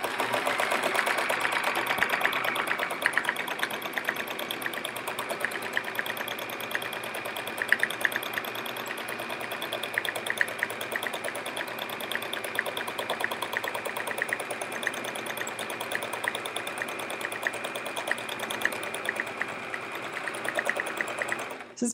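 A sewing machine runs steadily for free motion quilting swirls on a chevron quilt, a continuous close whirring hum with a fast even needle rhythm that keeps going without a pause.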